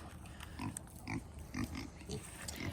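Farm pigs grunt in short, low, repeated bursts at a moderate distance, quietly over a constant outdoor background, with no one talking.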